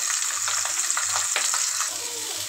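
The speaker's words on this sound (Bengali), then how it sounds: "চিচিঙ্গাটা ভাজি করার জন্য যে আমি ডিমটা এভাবে ভেজে নিচ্ছি" An egg fries in a pan in a home kitchen, giving a steady bright sizzle and hiss with occasional crackles and a faint low hum beneath, nearby and continuous.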